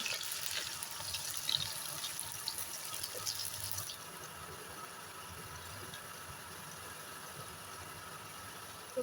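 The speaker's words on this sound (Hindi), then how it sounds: "तो अब मैं इनको फ्राई करती हूँ" Bitter gourd (karela) frying in hot oil gives a steady, dense sizzle that stays even throughout, close and moderately loud with no voices.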